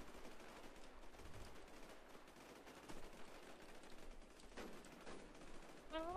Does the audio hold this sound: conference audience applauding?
no